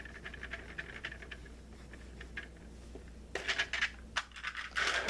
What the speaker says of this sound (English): That's my container of pencils making all that noise.